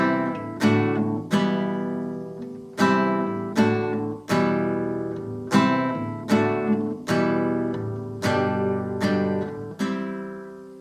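An acoustic guitar plays the intro chords of a song as a series of strummed chords, each ringing out and decaying, with the final chord held longer, alone and close.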